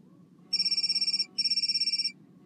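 A phone ringtone chirps in two bursts of rapid electronic pulses, separated by a short pause, over a low steady hum like a car interior.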